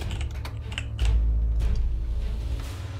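Typing on a worn computer keyboard, rapid close clicks and key taps in an uneven rhythm over a low background hum, alone without talking.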